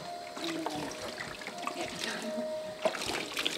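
Water pours steadily into a container to fill it during a child's water play meant to float a toy boat, a continuous trickling, splashing stream close by, with a brief spoken word over it.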